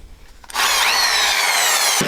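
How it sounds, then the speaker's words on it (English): A power drill spins up after a short quiet moment and runs loud and steady at full speed for over a second before stopping abruptly, with a brief knock at the cutoff. "a good drill"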